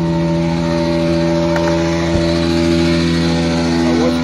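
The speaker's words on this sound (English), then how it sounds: "Turn your PTO back on." A truck engine idles steadily with its PTO engaged to run a vacuum tank pump, a loud, constant mechanical drone with strong tonal harmonics and one brief knock partway through.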